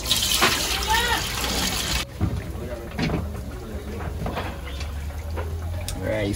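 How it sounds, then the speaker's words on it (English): Water splashes and pours out in a steady gush as it is drained from washed rice in a pot, with rattling and sloshing, while a person talks over it. "I'm gonna drain out this water"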